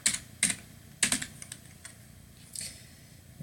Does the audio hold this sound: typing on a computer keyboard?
yes